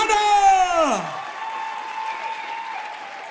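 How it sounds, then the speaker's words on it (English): Brief burst of audience applause for a singer at a Welsh talent search grand final, loud at first then dropping quickly under a lingering sustained tone and a low background hum. "And a massive round of applause."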